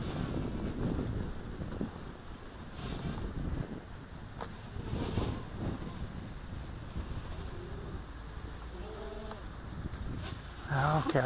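Quadcopter drone flying outdoors on Maui, a continuous buzzing whine of spinning rotors with steady wind noise over the microphone, the pitch shifting slightly as it moves, no talk.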